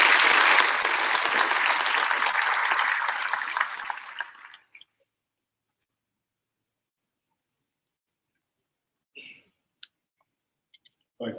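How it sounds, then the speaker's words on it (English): An audience at a sheriff's office academy graduation ceremony claps in loud, dense applause that fades out after about four seconds, leaving near silence broken by a few faint clicks. "If you once again give them a round of applause"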